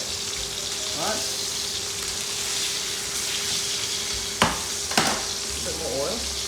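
Prosciutto-wrapped chicken breast fries in an oiled pan with a steady, close sizzle throughout, broken by a couple of sharp clinks of a utensil against the pan near the end.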